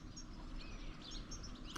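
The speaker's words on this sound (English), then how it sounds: "a lot of birds. I don't know if you can hear them chirping." Birds chirp at the ancient theater of Sparta in Greece, with faint, scattered high tweets from some distance over a soft, steady outdoor background.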